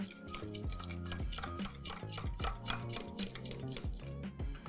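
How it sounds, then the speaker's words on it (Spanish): A utensil clinks and scrapes steadily against a bowl while mixing edible fabric ingredients such as glycerin and water, a rapid run of small taps and rattles heard close up and fairly quiet. "Ahora mezclamos."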